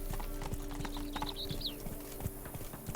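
A horse's hooves clip-clop at a steady, even trot in The Witcher 3, close and clear over soft game ambience.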